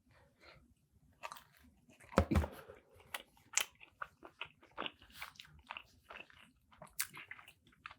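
Close-up crunchy biting into pizza crust dipped in creamy garlic sauce, one loud bite followed by a string of irregular moist chewing crunches, fairly quiet between them and with no talking.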